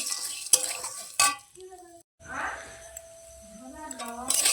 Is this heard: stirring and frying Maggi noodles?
yes